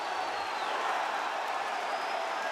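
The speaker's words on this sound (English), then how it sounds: "Listen to this crowd." An arena crowd roars and applauds after an MMA bout ends in a hometown fighter's win, a steady wash of cheering heard from a distance without breaks.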